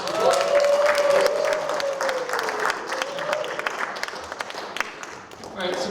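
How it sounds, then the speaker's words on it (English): Crowd applause for a speaker at an anti-abortion activists' gathering: steady clapping from many people throughout, with voices and a cheer mixed in. "Give him a big round of applause."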